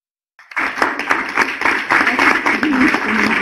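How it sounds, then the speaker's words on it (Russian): Applause for a speaker at an international SkyWay teleconference bridge starts abruptly after a brief silence, then builds into loud, close clapping from an audience, with a few voices faintly mixed in. "Это аплодисменты Юницкому"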